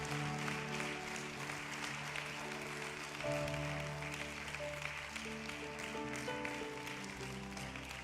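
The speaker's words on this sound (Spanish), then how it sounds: "Démosle un aplauso fuerte al Señor esta tarde." A congregation applauds in a church, sustained clapping that fills the room under held organ or keyboard chords, steady and moderately distant throughout.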